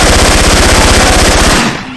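Rapid, loud automatic gunfire from Left 4 Dead 2 with a Syphon Filter weapon sound mod, a fast even burst of shots that stops abruptly and leaves a brief tail.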